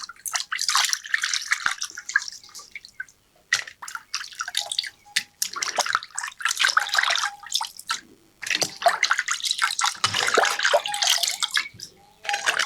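Fish pieces being washed by hand in a bowl of water for a Sri Lankan rock fish curry, with splashing, dripping and sloshing coming in close bursts and brief pauses in between.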